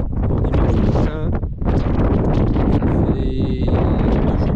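Strong wind gusting hard outdoors, a loud, continuous broadband roar buffeting the microphone from start to finish, with brief lulls and a faint tonal whistle partway through.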